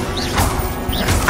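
Confringo and Incendio spells strike in Hogwarts Legacy, giving two loud fiery blasts with a swooshing launch and a crashing burst, close and punchy.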